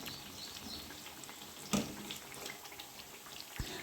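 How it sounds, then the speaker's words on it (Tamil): Steady rain falling outside during home cooking, a faint, even hiss with no break for the whole stretch and one soft knock near the middle. "நல்ல மழையும் கூடங்க"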